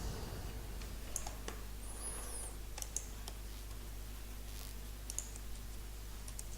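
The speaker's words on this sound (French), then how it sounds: "Clic droit sur l'image" A computer mouse being clicked at a desk during Word 2013 work, with a few faint, sharp clicks spread apart over a low steady room hum.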